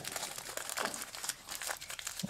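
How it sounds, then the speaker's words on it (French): Material is folded and crumpled by hand to make a foliage texture for spray paint art, giving short, close, papery crinkles in quick bursts. "Je vais en découper un bout. Je vais venir la plier."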